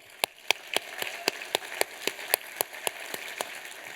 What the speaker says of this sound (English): I just want to give one more last round of applause to all of our Hall of Fame inductees.